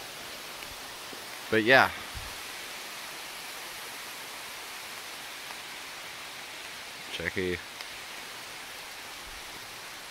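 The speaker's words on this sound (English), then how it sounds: "you hear that rain really taking off now" Heavy rain falls steadily in the woods, a constant close hiss over the whole stretch, with two brief bursts of speech cutting in.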